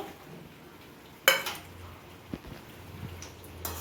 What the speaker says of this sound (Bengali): এরপর আমি আলুগুলো দিয়ে দেবো।